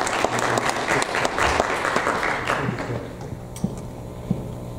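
Sustained applause rises from a church congregation during an Easter Sunday service, many hands clapping nearby before gradually thinning out.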